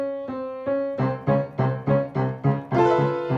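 A piano plays a two-note half-step figure in the Jaws-theme style, a slow pair of notes followed by a run of repeated low, struck notes in a steady rhythm, close and clear with no talking.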